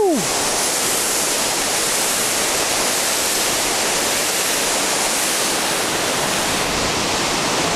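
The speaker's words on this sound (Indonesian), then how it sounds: "Ini dia air terjun Efrata." Efrata waterfall at Lake Toba on Samosir roars as a steady, loud broadband rush of falling water, close and unbroken for the whole stretch.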